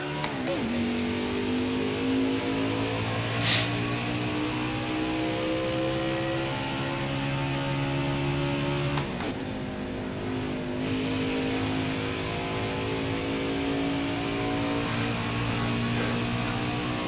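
Race car engine in NASCAR Heat 5 at Pocono, revving up through the gears with a steady loud drone, rising pitch and a brief shift break midway, continuous throughout with no talk.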